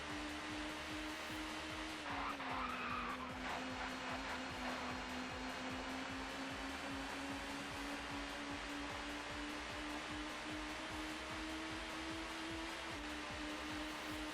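Touring car engine drone in the ToCA Touring Car Championship racing game at Donington Park, Peugeots and Audis racing: a steady buzzing engine note with small pitch dips through a chicane, over continuous broadband noise.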